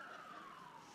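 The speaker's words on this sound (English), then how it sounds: "So now, after the helicopter, we've got the sirens." A siren wails faintly outside in the distance as a single falling tone, heard alone for about a second.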